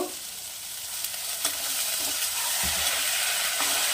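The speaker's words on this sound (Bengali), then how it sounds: "মশলাটা কষানোর জন্য দিয়ে দেবো একটু সামান্য পরিমাণে জল" A little water poured onto spice paste in a pan for a Bengali koi fish curry with cauliflower, giving a steady bright sizzling hiss that swells and holds, with no talking.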